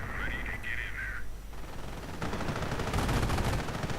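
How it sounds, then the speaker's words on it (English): Recoilless rifles fire at German armor in a World War II strategy game, a dense, noisy battle din of repeated shots and blasts swelling louder in the second half after a brief tonal whine at the start. "recoilless rifles firing away at these German armor"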